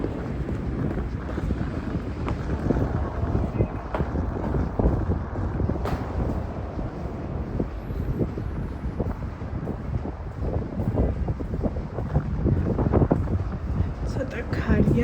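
Wind gusts buffet the microphone outdoors at an underground passage on a city square, a steady rumbling roar with low thumps that swells and eases throughout.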